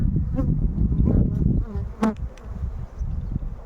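Honeybees hum steadily at an open hive while beekeepers merge queenless colonies, a dense close buzz with a person talking over it now and then.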